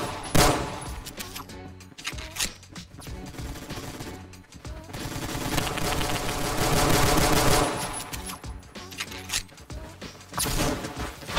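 Gunfire in the Roblox shooter Phantom Forces, bursts of rapid automatic shots and single cracks that swell and fade over busy game background noise, loud and close, with no talk.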